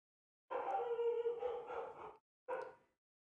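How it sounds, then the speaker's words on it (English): A dog named Rory gives a long, drawn-out bark that rises into a howling whine, then a short second bark after a brief pause, fairly close and alone. "Rory's barking at something."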